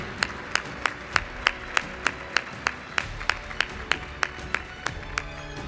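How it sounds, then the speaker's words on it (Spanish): At an awards gala the audience claps in unison, a steady rhythmic beat of crisp claps about three per second over a soft background of crowd noise and tonal sound. "Sea más, más grande, más efusivo el aplauso."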